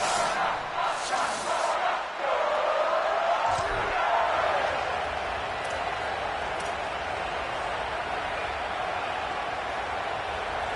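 Stadium crowd roar at a high-elevation home venue in the College Football 27 video game, a steady dense wash of cheering and noise holding throughout with a few louder swells early on.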